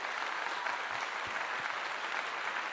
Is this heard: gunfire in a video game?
no